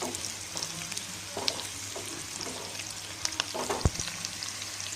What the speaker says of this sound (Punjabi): ਪਿਆਜ਼ਾਂ ਨੂੰ ਅਸੀਂ ਹਲਕਾ ਬਰਾਊਨ ਹੋਣ ਤੱਕ ਭੁੰਨਾਂਗੇ